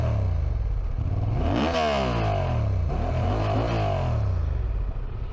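A 2023 Honda Transalp 750 motorcycle engine revs hard and loud, pitch sweeping up and down through several throttle blips, with a deep rumbling exhaust throughout.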